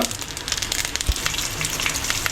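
Batter bhaji sizzling steadily in hot oil in a pan, a dense, continuous crackle close up with no talk over it.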